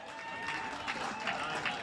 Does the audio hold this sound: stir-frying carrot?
no